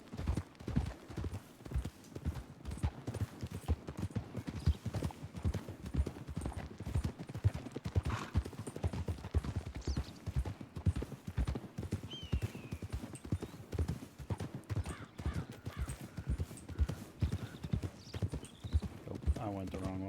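Rapid, rhythmic clip-clop of a fast horse's hooves galloping in Red Dead Redemption 2 roleplay set in 1903, steady and close, with an occasional whinny and someone talking over it.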